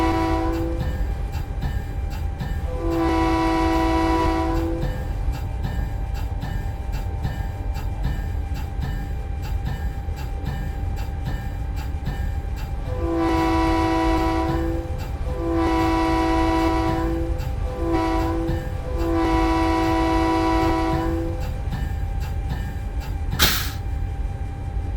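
F45 diesel locomotive in Train Simulator 2021 on a rainy Cascadia route, a constant low engine rumble under several long two-tone horn blasts, with a sharp click near the end and no talking.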